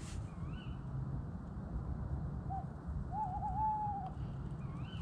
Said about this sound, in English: There's been a lot of owl activity tonight.